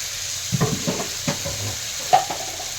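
Ginger and spices fry with a little added water, giving a soft, close sizzle broken by a few scraping stirs and a sharper tap of a utensil against the pan.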